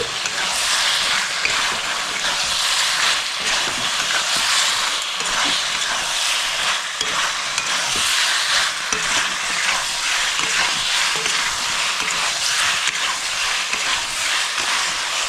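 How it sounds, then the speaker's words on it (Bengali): Chicken for chilli chicken is stirred and fried in a pan, giving a steady, loud sizzle and hiss with faint scraping of the spoon all the way through and no talking. "চিকেনটা দিয়ে ভালো করে মিক্স করে নিচ্ছি।"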